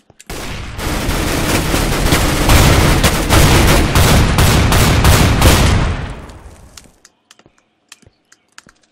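Rapid automatic gunfire from Minestrike on the Mineplex Minecraft server, a dense, loud burst of shots lasting about six seconds, then a sharp stop into near silence with a few faint scattered clicks.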